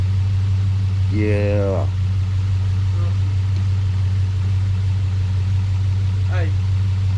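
A third-generation Camaro engine, turned over for the first time in ten years, gives a loud, constant low drone throughout, while a voice briefly speaks over it.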